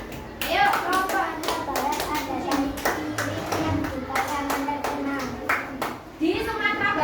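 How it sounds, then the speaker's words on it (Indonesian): Children in a primary school classroom clap their hands together, a burst of uneven applause with sharp repeated hand claps over a murmur of young voices, fairly close and loud throughout. "Beri tepuk tangan sekali lagi."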